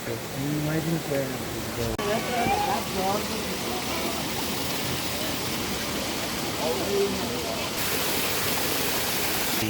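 Water gushes steadily from stone spouts at Muktinath in the Mustang region, a dense continuous splashing roar heard close up, with people talking over it.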